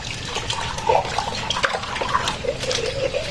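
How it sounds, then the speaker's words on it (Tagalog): Rinse water runs and splashes down a drain while dishes, plates and spoons are washed by hand, a close, steady gurgling flow with small trickles and drips. "kung mapansin nyo, lahat ng gagamitin natin tubig dito ay pupunta doon sa ilalim"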